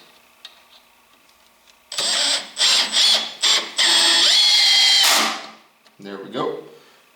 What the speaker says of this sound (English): Here comes the 3-inch screws. They're going to toenail in.